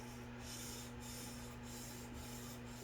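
Tops Wild Pig Hunter fixed-blade knife sharpened on a 400 grit stone with a Tsprof K03 Pro Hunter guided sharpener, a faint, steady rhythmic rubbing of strokes over a constant low hum, no talking.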